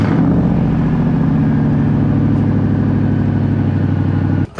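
A Chevrolet Silverado pickup truck engine, on a cold start with a modified exhaust, runs at a loud, steady idle with a deep, throbbing exhaust rumble, then cuts off abruptly at the very end.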